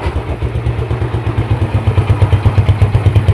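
A Yamaha Jupiter Z motorcycle engine idles close by with a steady, slightly lumpy low thumping from the exhaust, pulsing evenly with mechanical clatter over it and no talk.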